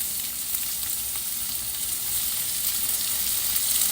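Washed shrimp paste (alamang) frying in a pan with vinegar, a constant loud hissing sizzle close up with a faint bubbling texture and no voices.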